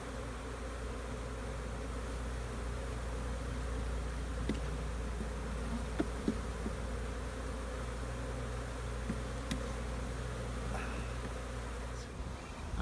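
Honeybees from a caught swarm buzz steadily around a swarm trap and nucleus box outdoors, a continuous dense hum with occasional closer passes of individual bees.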